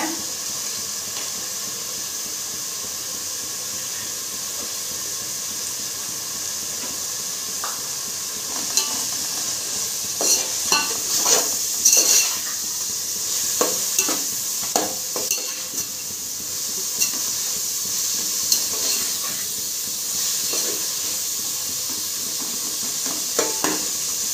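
Soaked chana dal fries in a pan for coconut rice under a constant hissing sizzle, with occasional stirring scrapes and clatters from the middle onward, near and steady.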